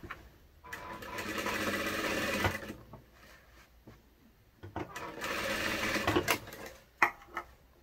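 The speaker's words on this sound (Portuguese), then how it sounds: "eu abri aqui um pouquinho a costura e eu vou dar um retrocesso aqui" A sewing machine runs a backstitch over a partly opened seam in a lined garment, in two long whirring bursts with a pause between, followed by brief clicks and handling noises, close up.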